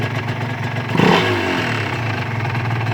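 A Honda NSR150 two-stroke motorcycle engine idles with a rough, buzzing tone, then revs up sharply and holds a raised, crackling pitch, loud and close with no talk.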